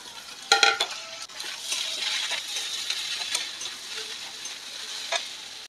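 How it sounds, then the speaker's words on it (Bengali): Chopped carrot, potato and cauliflower drop into a hot pan with a sharp clatter, then settle into a bright, steady sizzle with a few light scrapes and taps, up close and alone. "এগুলো সবজিগুলো ঢেলে দিলাম"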